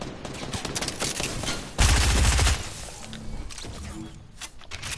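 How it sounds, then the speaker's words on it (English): A sniper rifle fires in a video game: one loud, close, booming shot that stands out sharply from the busy background game sounds and fades quickly. "Heard that snipe."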